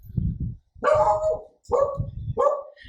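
Dog barking close by, four loud separate barks in uneven rhythm, each with a sharp onset and short tail, heard alone with no talk.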